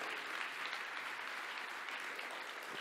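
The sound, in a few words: congregation applauding in church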